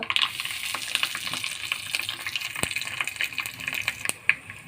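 Mustard seeds and garlic crackling in hot oil in a ladle for a tempering, a busy sizzle with sharp pops and spits scattered throughout, close up and alone.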